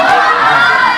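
A studio audience of fans screaming at a television talk show, a dense, loud, high-pitched wall of shrieking voices that holds steady for the whole moment.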